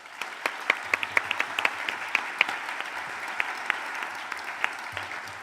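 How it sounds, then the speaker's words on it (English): Warm audience applause at a European heritage awards event, a continuous bed of clapping with sharper individual claps standing out, steady and fairly close, no talk over it. "Your warm applause for heritage champion Inge Bisgaard."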